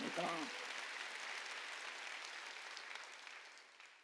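Korean church congregation breaking into applause during a sermon, a broad, sustained patter of many hands clapping that slowly fades, following a brief moment of the preacher's voice at the start.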